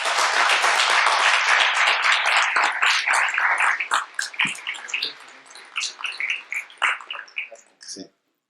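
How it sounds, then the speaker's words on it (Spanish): An audience at a human rights conference session gives the keynote speaker a loud round of applause that stays dense for a few seconds, then thins into scattered claps and stops. "le vamos a pedir que le brindemos un fuerte aplauso"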